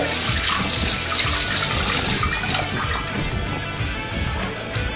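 A red onion is rinsed under a running kitchen tap, giving a steady, close rush of splashing water that continues throughout and softens slightly toward the end.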